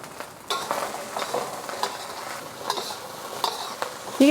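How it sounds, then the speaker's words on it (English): Sausage, shrimp and mushrooms heat in a frying pan with a soft, steady sizzle, punctuated by several sharp clinks and scrapes of a utensil stirring and tapping the pan, close and moderately loud with no talking. "And we're going to heat all of these ingredients through."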